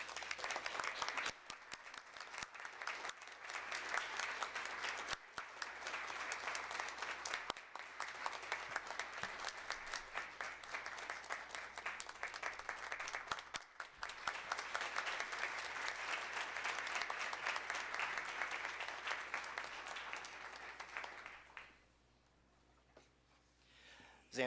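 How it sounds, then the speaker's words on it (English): Audience applause at a school board of education meeting as a student honored for scouting joins the speaker on stage: steady, dense clapping from a seated room lasting about twenty seconds, then fading to near silence. "Can we please give a round of applause as Xander joins me on the stage?"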